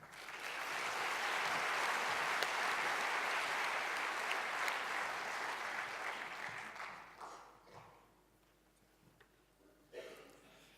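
Audience applause at an international Indigenous health and wellbeing conference, welcoming Australian politician Ken Wyatt to the stage, a dense steady clapping that holds for several seconds, then thins out and fades, with a few scattered claps at the end.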